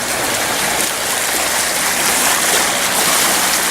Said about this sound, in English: I'll show you these waves. They're really kicking up.